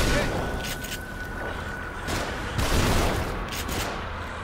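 Bursts of gunfire in The Evil Within survival horror game, several broad noisy blasts spread across a busy combat scene, mixed with talking voices and background game audio.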